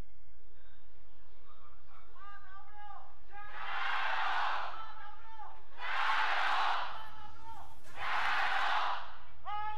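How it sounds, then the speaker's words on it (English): An esports arena crowd in Shanghai at a League of Legends pro match, Rogue Warriors versus Invictus Gaming, roars in three loud, rhythmic chanting surges over a steady background, with a voice calling before the chants. "Probably the loudest crowd chant I've actually heard"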